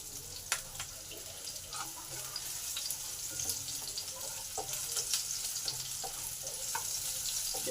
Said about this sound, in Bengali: রসুনগুলো লাল লাল করে ভাজা হয়ে এসেছে